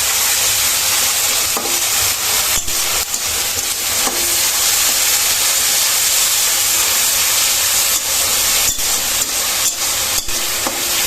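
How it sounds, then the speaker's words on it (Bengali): Ginger and garlic paste frying in a pan for dal chorchori, a steady dense sizzle with occasional stirring scrapes, close and loud throughout with no voices. "এগুলো একটু ভেজে নিচ্ছি আমি।"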